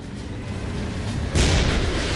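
A deep, heavy boom from a tank cannon erupts partway through, a single loud blast rising over a low rumbling background, in a World War II tank battle.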